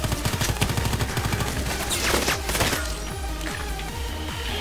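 Rapid pistol fire in the online shooter Contract Wars on the Carpound map, a dense run of sharp repeated shots in the first half, then scattered quieter reports amid game noise.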